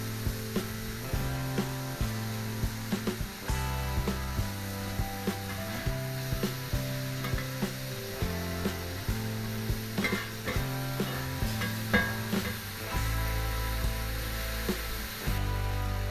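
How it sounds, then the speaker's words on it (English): Fries and bacon seasoned with salt, pepper and garlic powder fry on a steel plancha with a continuous close sizzle, punctuated by regular scraping turns of a utensil against the metal. "Let this cook for a couple of minutes until the bacon starts to cook through."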